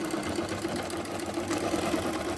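An Empisal Goldline Deluxe automatic sewing machine runs steadily at close range, its motor humming under a fast, even mechanical chatter of the needle and feed mechanism, with no speech.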